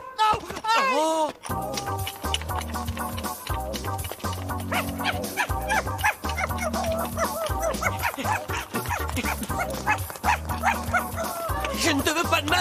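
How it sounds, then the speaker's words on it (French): A cartoon dog barks and yips in short repeated bursts over lively background music, with a few whimpering cries near the start. "On dirait que c'est le chien du maire."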